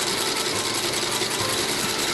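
Industrial sewing machine stitching the inseam that joins a Meindl boot upper to its midsole, a steady close mechanical whirring and rapid ratcheting chatter running continuously without pause.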